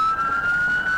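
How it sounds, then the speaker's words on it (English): A police car siren wails steadily at one sustained pitch, loud and continuous throughout this brief moment, with no voices over it. "officers blare their lights and sirens"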